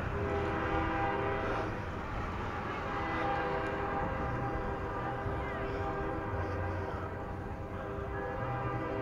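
A CSX freight train rolls past in a small historic riverside town, its steady heavy rumble and faint wheel clatter continuous throughout, with sustained horn-like tones layered over it and a hint of distant voices.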